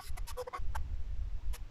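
Basilan native hens cluck close by in a quick run of short clucks, followed by a couple of isolated clucks over a low background rumble.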